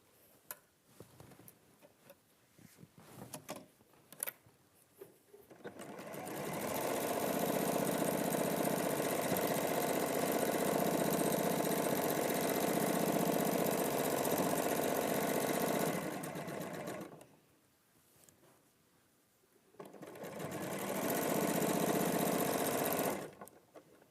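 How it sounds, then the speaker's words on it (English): A sewing machine stitches a quarter-inch seam in two loud, steady runs, one about ten seconds long and a shorter one after a brief pause, with quiet handling noises before the first run. "And then we're just going to sew that 1/4 inch."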